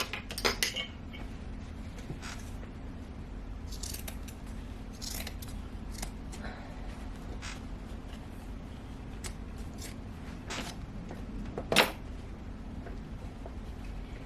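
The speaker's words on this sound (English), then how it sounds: "I'm going to take a little bit of this seam off of here" A seam on a sofa slipcover is unpicked, giving small, sparse snips and clicks over a low steady hum, with a sharper snip near the end.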